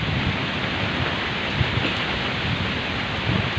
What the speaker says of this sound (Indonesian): Udah angin dibarengin hujan.